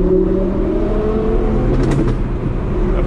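A car fitted with an FI exhaust revs at a night meet of JDM cars, a loud nearby engine roar with rising and falling pitch, continuous over a rumbling background.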